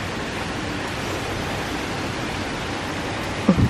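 Steady rain hisses as an even, broadband wash outdoors while water rises quickly nearby, with a brief thump at the very end.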